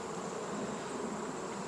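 Honey bees buzz steadily during a hive check, a dense, continuous drone of many insects close by with no pauses and no voices.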